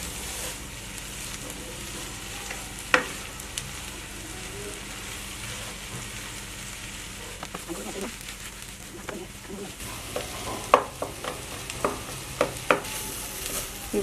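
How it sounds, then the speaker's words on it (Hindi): Vegetables with roughly cut chillies stir-fry in a pan for a potato sabzi, a continuous sizzle broken by sharp spatula clacks and scrapes that grow more frequent toward the end, with a voice speaking. "हमने इसको इतनी देर तक फ्राई करना है जब तक ये सारे वेजिटेबल इसमें थोड़ी सी झुलस ना जाए"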